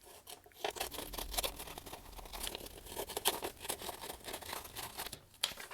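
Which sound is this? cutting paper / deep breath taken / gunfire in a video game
cutting paper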